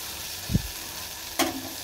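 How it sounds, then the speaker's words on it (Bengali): Okra fries in a pan with a low background sizzle. Two short knocks of utensil or pan contact break the sizzle. "এখানে ভেন্ডি ভাজাটা হচ্ছে"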